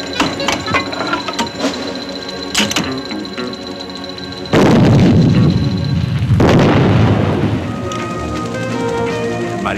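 Explosions and gunfire in a military training film about the marines, with sharp cracks and thuds early on, then a loud, sustained blast rumbling for about two seconds before a lingering, quieter din.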